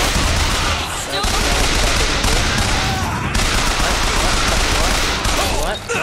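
Machine gun fire in Bioshock Infinite, with continuous loud rapid bursts running the whole time, close and dense, plus a few brief breaks and game clatter mixed in.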